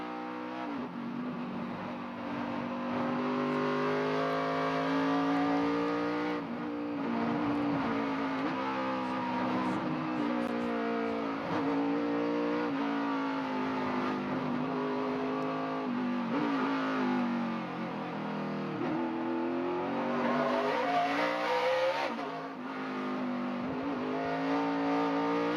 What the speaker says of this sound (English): You hear him get on the brakes and the engine,